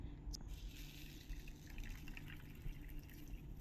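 Water pours and trickles over moong dal set to soak alongside bajra for a winter khichdi, a steady close liquid gush with faint drips and no talk.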